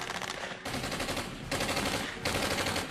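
Rapid Tommy gun bursts and heavy gunfire in a shootout, loud and continuous in dense rattling volleys with brief shifts between bursts, no voices over it.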